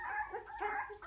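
Two-week-old newborn puppies making soft, high whimpering yips and squeaks, close and continuous through a short stretch, with a voice faintly in the background.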